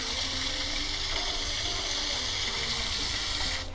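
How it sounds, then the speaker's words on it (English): A waterfall ambience from an iPhone 7 Plus sleep app makes a steady, broadband rushing wash of falling water, continuous and even. It fades slightly right at the end. "My favorite relaxing sound is waterfall."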